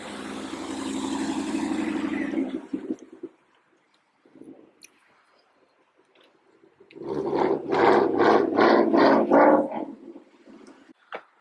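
A car's 5.0-litre V8 engine roars loudly, falls quiet, then revs again in several rapid throttle blips, a deep rumble close by, outdoors at a store opening.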